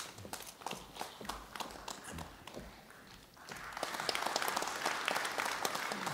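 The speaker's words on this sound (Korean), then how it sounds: "다시 한번 큰 박수로 축하해 주시기 바랍니다." Applause at a university graduation ceremony, honoring top students receiving awards; scattered clapping at first, then swelling into sustained, fuller applause from the crowd in the hall.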